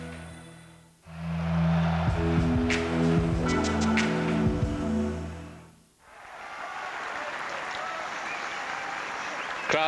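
Tennis crowd at the French Open, Roland Garros, applauding in two broad bursts separated by a brief lull, with voices and commentary talk over the first stretch.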